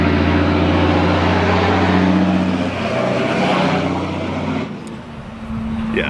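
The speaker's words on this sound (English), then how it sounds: "well, we got a vehicle coming by." A vehicle rumbles past on a quiet country road near an RV, its engine drone loud and close before fading abruptly toward the end.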